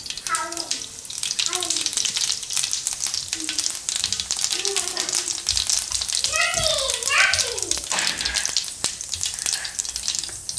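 Mustard seeds and cumin hit hot oil and crackle and sizzle loudly and steadily throughout, while a person talks over the frying.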